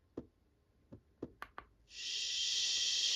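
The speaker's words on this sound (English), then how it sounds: "Heartbeat." A baby sound machine on its heartbeat setting gives soft low thumps in a loose rhythm, about five beats, close and clean with no voices. Steady broadband hiss then cuts in at the end.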